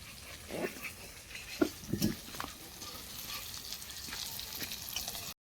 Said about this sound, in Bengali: সুন্দর করে লাল লাল করে ভেজে নেব।